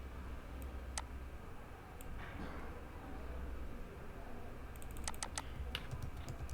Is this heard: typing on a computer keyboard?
yes